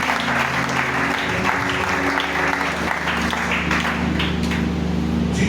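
A church congregation applauds the Lord during a worship service: steady, dense clapping runs throughout at a moderate level, with low sustained music tones underneath.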